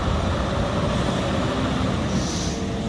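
Heavy transport truck straining up a steep grade in Germany, a low continuous engine and tire rumble with grinding road noise, steady and moderately loud throughout, no voices.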